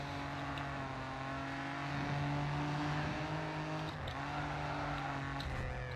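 A race car engine in the Grid 2 racing game drones loudly and steadily, with the pitch rising and shifting as it revs near the two- and four-second marks. No one speaks over it.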